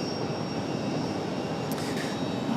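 An airliner taking off from runway 23 right at Raleigh-Durham, a steady broadband engine roar holding at an even level throughout, with no voices over it.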